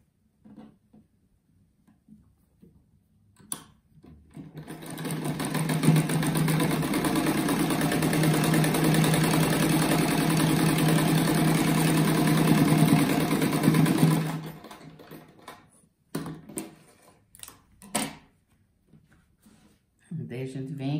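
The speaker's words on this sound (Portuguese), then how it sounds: "Agora já costuro esses dois juntos aqui." Domestic sewing machine joining two quilt squares for a star-patterned patchwork rug, a steady mechanical whir running for about ten seconds mid-clip, with short handling noises and brief speech before and after.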